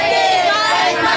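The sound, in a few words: crowd shouting a greeting to the Divine Master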